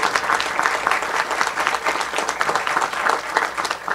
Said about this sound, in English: let's give her a round of applause for what she's done.